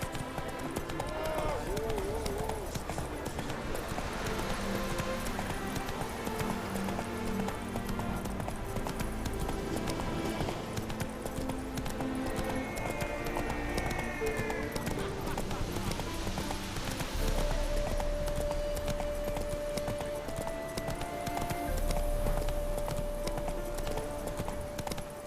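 Galloping hooves of Roach, the horse in The Witcher 3, drum in a fast continuous rhythm beneath game music and a voice, loud and close, with a brief whinny-like cry along the way.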